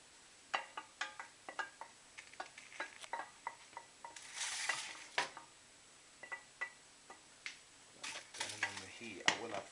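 Peppers, onions and chorizo fry in a pan, with a soft sizzle under repeated clicks and scrapes of a utensil stirring against the metal, close and fairly quiet.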